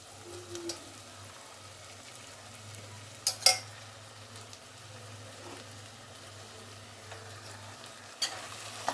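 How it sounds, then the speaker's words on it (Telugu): Chicken pieces go into a pan of fried tomatoes for chicken dum biryani, giving a faint, low frying sizzle broken by a few sharp clatters of a spoon against the pan. "ఇప్పుడు మనం ఇందాక కలిపి పెట్టుకున్న చికెన్ చికెన్ పీసులు అవి వేసుకుందాం"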